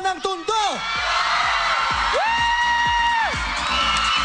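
A studio audience cheers and whoops loudly for a contestant named Rocco from Tondo during a game-show vote, with yells and crowd noise filling the whole stretch and scattered claps underneath.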